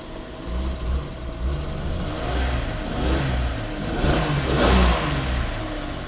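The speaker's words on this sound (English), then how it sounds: "let's see if she starts up." A 1997 Jeep Cherokee Sport engine starts and runs rough, a low uneven rumble that swells with a few revs and sputters close by, with no voices.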